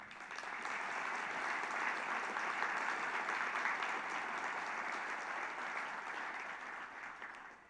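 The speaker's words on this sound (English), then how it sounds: "please join me in applauding the bioscience and healthcare community for what they've done" Sustained audience applause fills a live foundation gathering, a dense, even wash of many hands clapping at steady loudness for several seconds before easing off at the end.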